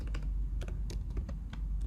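Fast, light clicking of a computer keyboard while entering figures into an Excel budget spreadsheet, close and fairly quiet, with irregular rapid keystrokes.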